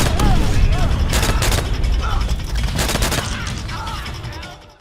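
Repeated grenade explosions from the World War II shooter Call of Duty: World at War, loud booming blasts in quick succession with clattering mechanical gunfire, a dense barrage that fades out at the end.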